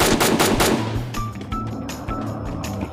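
Gunfire in the Free Fire mobile shooter game: a rapid burst of automatic shots up front, then scattered sharper single shots and distant cracks with game effects, loud and close, no voice over it.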